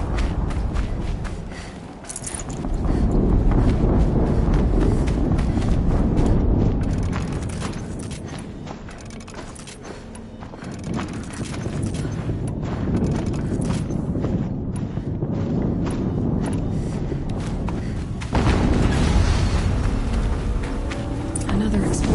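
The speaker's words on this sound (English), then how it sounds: "Another explosion." Explosions in the video game Horizon Zero Dawn rumble loudly and continuously, with deep booming swells over a dense wash of game noise and voices talking.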